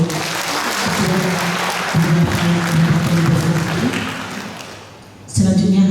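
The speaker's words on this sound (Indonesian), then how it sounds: "Mari kita beri tepuk tangan sekali lagi" Sustained audience applause at a government inauguration ceremony for PAUD patrons and working groups, a steady wash of clapping over a low hum, dipping briefly before swelling back loud near the end.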